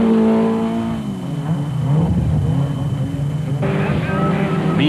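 Rough-sounding Hugbug special race car engine, a loud throaty drone that shifts pitch and wavers unevenly, with a brief drop and a jump in tone, heard up close with a voice talking over it.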